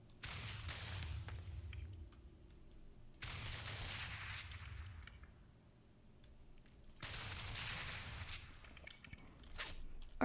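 Cast iron Enforcer gun fired in the game Teardown: three long bursts of rapid automatic gunfire, each lasting about two seconds, separated by quieter gaps with faint mechanical ticks, and no talking.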